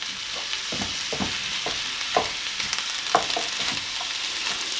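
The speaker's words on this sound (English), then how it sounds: "here now hopefully, it's just very gently starting to cook" Food for a lasagne cooks gently in a pan, giving a soft continuous sizzle with scattered clicks and scrapes as it is moved around.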